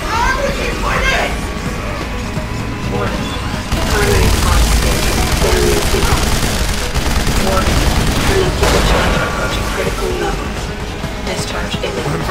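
Continuous automatic gunfire from Deus Ex: Human Revolution, dense rapid shots and booms running nonstop under game effects and occasional voices, loud and close throughout.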